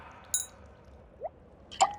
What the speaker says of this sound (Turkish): Su damlaları.